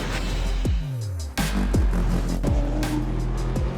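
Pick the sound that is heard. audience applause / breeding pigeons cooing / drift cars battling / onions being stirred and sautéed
drift cars battling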